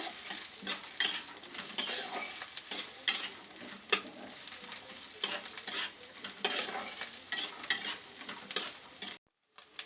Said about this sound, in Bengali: তো দেখো আমার নারকেলগুলো ভাজা হয়ে গেছে